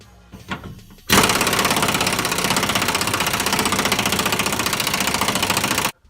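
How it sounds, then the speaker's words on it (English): An impact wrench works loose a fuel tank bolt on a 1997 Ford Powerstroke, a loud, steady rapid hammering burst of about five seconds that follows a brief quiet lead-in and stops abruptly. "We can get ready to come at her with the impact."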